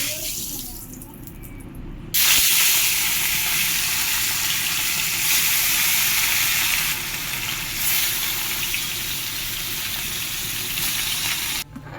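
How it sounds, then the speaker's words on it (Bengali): Steady, loud sizzling of rohu fish frying in hot oil, a dense crackling hiss that starts abruptly and continues without pause. "তেলটা একটু গরম হওয়ার পরে মাছটা ছেড়ে দেব"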